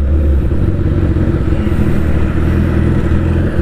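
A motorcycle that had sat unused for many days is ridden at night, its engine a loud, steady, close rumble with constant road and wind noise and no talk.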